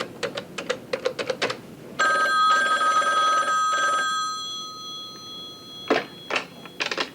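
A telephone rings for an incoming call during a caller ID demonstration, with quick clusters of bright electronic trills, a sustained tone in the middle, then more trill bursts, close and clear with no talk.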